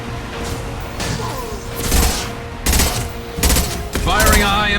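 Bursts of sci-fi gunfire and impacts during a Mass Effect 2 firefight, loud clustered shots in several separate bursts, with voices and game chatter mixed in.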